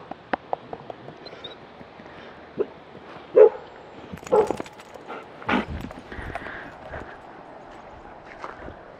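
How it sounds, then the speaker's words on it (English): A neighbour's dog barks several times at a moderate distance, with a few separate loud woofs spaced a second or so apart over a quiet yard background, mixed with light knocks and rustling. "Look, now you made the neighbor dog bark."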